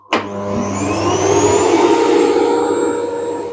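An Electrolux UltraFlex EUFC8ALRGY vacuum cleaner switches on with a sharp click and spins up into a loud, steady whining roar that holds close and constant, with no talking.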